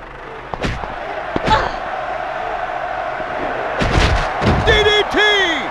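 Wrestling DDT slam in WCW Backstage Assault, a 2000 PlayStation game: a few heavy thuds land over a constant arena crowd roar, followed by louder crowd swells and voice-like calls near the end.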